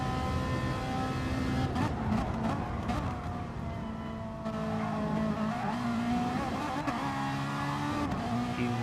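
Race cars in a video game, a Mustang among them, roar steadily in a dense, continuous engine drone with shifting revs, loud and sustained throughout with no break.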